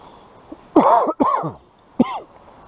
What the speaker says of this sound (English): Sorry for the coughing, guys. Dryness.